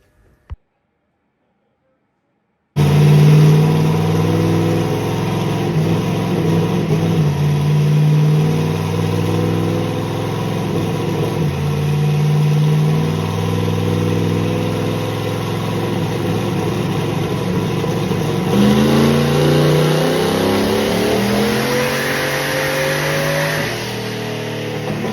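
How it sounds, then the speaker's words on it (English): A car engine on a dyno runs loud and close after a brief silence, holding a steady rising drone through a long pull with audible gear changes, then climbs in pitch toward the end. "time to throw it on for one last dyno pull"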